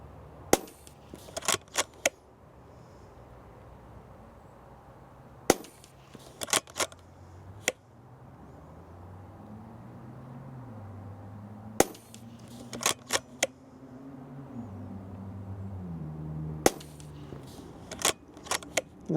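A Weihrauch HW100 Carbine .22 air rifle fires in sharp, crisp clusters of several quick shots separated by pauses, with a faint low hum underneath between the bursts.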